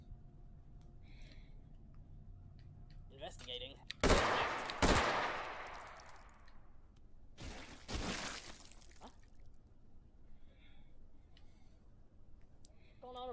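Incendiary rounds fired from a gun in Hot Dogs, Horseshoes & Hand Grenades: two sharp, loud close shots with hissing, crackling decay, then a third burst, under quieter clicks and handling noises.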